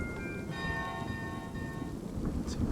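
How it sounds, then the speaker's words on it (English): A bell rung in the video game Kingdom Two Crowns: Norse Lands, its sustained ringing tones holding for about a second and a half and then decaying, set over a steady low rumbling ambience. "Ring the bell one more time."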